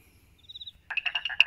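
Small frogs in a garden pond give a short series of quick, high, rhythmic chirping croaks, a faint pulsed call followed by a louder, nearby burst of five or six notes in the quiet.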